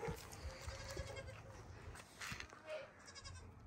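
Goats bleat faintly against an outdoor background, with several short calls scattered through the quiet.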